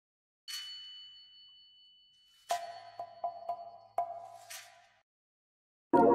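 A percussion loop from a drum kit, heard alone: ringing bell-like tones, then a sparse run of sharp metallic dings and clanks at an uneven rhythm, ending on a louder burst.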